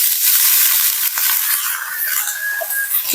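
Boiled figs tipped into a pan of sizzling, oil-released spice paste for a fig and prawn curry, a loud close hiss and crackle with a few sharp clicks, no talking.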